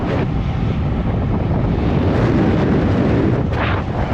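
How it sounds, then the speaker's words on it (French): Strong wind buffeting the microphone during a recovery ride on a bicycle, a loud continuous low roar lasting several seconds with no speech. "Il y a un peu de vent."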